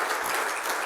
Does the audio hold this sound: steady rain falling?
no